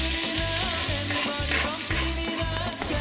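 Food sizzles and crackles steadily in hot sunflower oil up close, with a faint rhythmic humming pattern running underneath the continuous frying.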